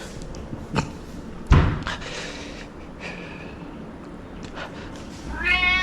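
A cat meows a few times nearby, with a sharp thump partway through and a louder, drawn-out meow near the end.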